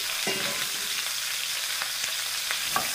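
Courgette rounds sizzling in a frying pan, a steady close hiss of frying with a few scraping stirs and clinks of the utensil against the pan, no talking.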